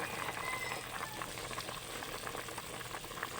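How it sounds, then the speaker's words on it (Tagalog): Chicken tinola soup boils in a pot, giving a steady, close bubbling hiss with dense small pops running evenly throughout, heard alone without any talk. "Sarap ng kulo niya."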